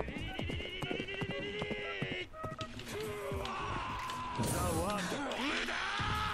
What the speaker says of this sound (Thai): ถ้าผมเอาม้าชนจะเป็นยังไงวะ